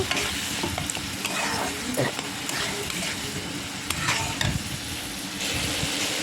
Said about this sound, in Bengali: হলুদ দিয়ে একটু ভালো করে কষিয়ে নেব